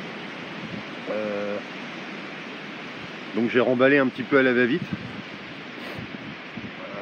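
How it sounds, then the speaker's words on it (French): Steady broadband wind rushes throughout at a winter campsite, with a person speaking briefly in the middle over the roar. "Alors là, il y a du vent."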